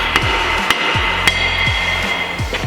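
A hammer striking the edge of a Honda Type R's brake disc to knock it free, a series of about eight sharp metallic blows in an uneven rhythm, loud and close.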